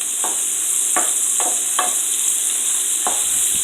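Vegetables sautéing in a pan for sweet and sour gravy, a bright continuous hiss of frying with a few spaced scrapes and taps of a utensil stirring, close by and without talk.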